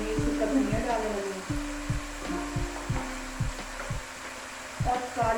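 Salt and dried coriander fry in a spice masala in a pan, a low steady sizzle broken by a regular rhythm of scraping, knocking stirs, close and moderately loud.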